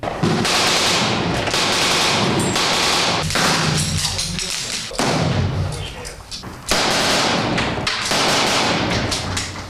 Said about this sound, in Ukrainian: по диверсантах веде вогонь група прикриття